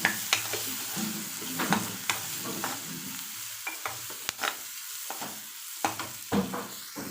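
A capsicum and onion vegetable mixture seasoned with salt and turmeric being stirred in a pan, soft sizzling broken by repeated clanking scrapes of the spoon, close and moderately quiet.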